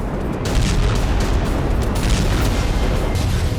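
A deep, rumbling wartime explosion blast roars continuously, with heavy low-end booming and no voices.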